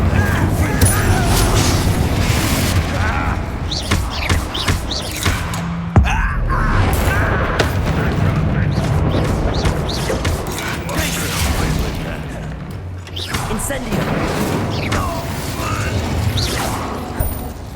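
Fire spell blasts from Incendio, cast repeatedly in combat in Hogwarts Legacy on Xbox Series X, burst as loud booming whooshes. They are layered over continuous battle noise and game speech, with a sharp hit near the six-second mark.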